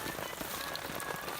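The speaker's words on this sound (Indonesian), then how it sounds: "dan ternyata sekarang hujan gitu" Steady rain patters on the ground and foliage during a mountain hike on Bukit Tunggul, a dense continuous hiss of drops with no voices.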